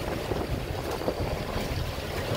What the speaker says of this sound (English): It's 20 knots of wind.